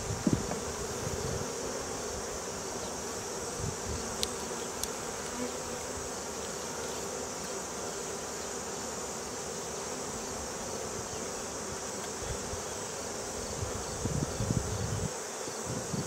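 Honeybees buzz steadily inside an opened hive box during a late-season inspection of a split colony, a continuous close drone with faint rustles and handling noises.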